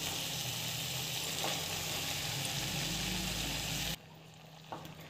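Soaked poha sautéing in a pan gives a dense, close sizzle that runs steadily for about four seconds, then drops to a quieter simmer with a single soft knock.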